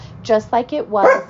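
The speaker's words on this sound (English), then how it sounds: "Excuse my dog, there's a thunderstorm today." Pet dog barking indoors during a thunderstorm: a quick burst of three or four loud, close yips and barks in under two seconds.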